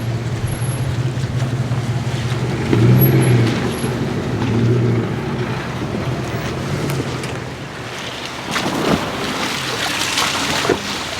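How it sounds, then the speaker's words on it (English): A 2014 Subaru Forester XT crawling downhill off-road on muddy ground with hill descent control braking the wheels, a steady low rumble with rising and falling mechanical grinding amid heavy wind buffeting. "That's the hill descent control, braking the wheels to make sure that I'm not going too fast"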